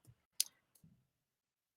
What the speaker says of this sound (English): I'm just typing in something.